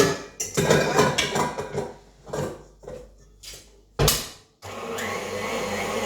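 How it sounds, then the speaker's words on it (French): A small food processor mixing gluten-free galette des rois filling with almond oil, vanilla and cranberries: choppy bursts of whirring and clattering, then a brief pause before a steady motor whir resumes. "on va mélanger tout ceci avec mon petit robot"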